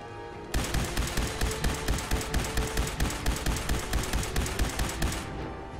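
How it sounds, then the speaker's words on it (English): Rapid automatic gunfire in the video game Fallout 4, a steady, evenly spaced burst of loud shots running for about five seconds before cutting off, with no speech over it. "About to shoot! Get behind the corner!"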